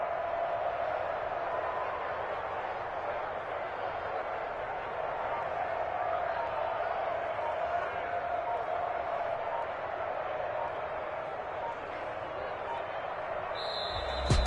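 A home crowd at a basketball game applauds and cheers in a steady, dense roar of clapping and voices that holds for the whole stretch, with a short sharp sound right at the end.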